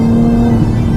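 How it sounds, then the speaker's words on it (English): Engine of a Porsche 911 997.2 Turbo, a loud, steady low droning growl heard up close for a brief moment. "In this 997, I'm very happy with the engine noise."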